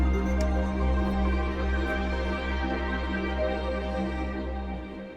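An ambient track from the game Trailmakers plays as a soft, sustained wash of steady tones and a low drone that fades slightly toward the end, with no voices.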